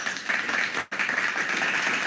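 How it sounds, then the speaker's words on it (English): A clapping sound effect plays as a steady burst of applause-like claps, briefly cut off, then resuming at an even, moderately loud level with no talk over it. "Clapping sound."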